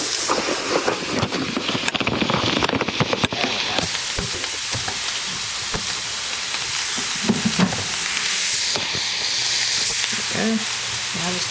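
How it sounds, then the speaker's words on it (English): Sausage pieces browning in a skillet on a stove turned down toward medium: a steady, fairly loud broadband sizzle that runs the whole time, with scattered pops and crackles and a few clatters. "You're going to brown it in a skillet like that."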